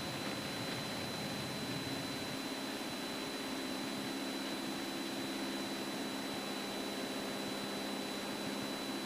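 A Cessna engine drones steadily in flight, a continuous, even roar heard from inside the cabin with no change in pitch or level throughout.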